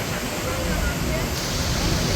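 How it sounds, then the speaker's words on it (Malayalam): A steady, close roar of rushing water from the Rhine Falls in Switzerland, loud and unbroken, filling the whole clip. "നമ്മൾ വെള്ളച്ചാട്ടത്തിൻ്റെ ഏറ്റവും അടുത്തേക്ക് എത്തുവാണ്"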